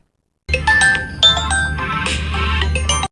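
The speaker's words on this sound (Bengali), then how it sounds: "স্যারের একটা ফোন দিয়া দেখি" A melodic phone ringtone chimes steadily for about two and a half seconds after a short silence, clear and close, with no talking, as a call is placed to a boss outside a closed office.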